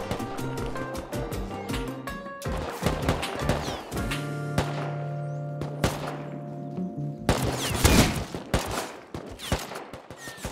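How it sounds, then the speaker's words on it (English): A gunfight in the video game Rust crackles with bursts of rapid gunfire, dense volleys separated by brief lulls, with a sustained tone running through the middle and a heavy burst near the end. "I made my way towards a gunfight"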